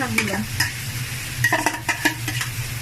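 Mustard greens and prawns are stirred in a hot frying pan, with a steady sizzle under repeated scraping and clinking strokes of a spoon against the pan, close and fairly loud.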